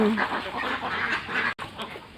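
Ducks quack in a farm duck pen shared with a few chickens, near a pig pen, with steady overlapping calls against a noisy outdoor background.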